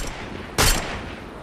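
A single sharp sniper shot cracks once in Fortnite, loud and brief, standing alone against a quiet game background.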